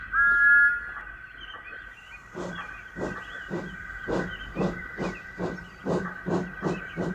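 Steam locomotive Thomas the Tank Engine puffing away, with a steady hiss of steam under a rhythmic series of about a dozen chuffs that gradually quicken, close and moderately loud.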